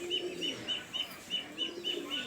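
A pair of pigeons coo in a low, rhythmic, repeating pulse, soft and fairly close, with no talking.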